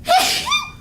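A single short, sharp human sneeze, close and loud, with a breathy onset and a rising vocal tail.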